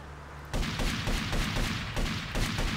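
Rapid gunfire from a weapon in GTA Vice City, a burst of repeated shots beginning abruptly and continuing in a steady rhythm, loud and close with no talk.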